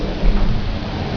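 Thunderstorm with heavy rain: dense, continuous rainfall hiss with a deep low rumble of thunder, loud and close, with no voices.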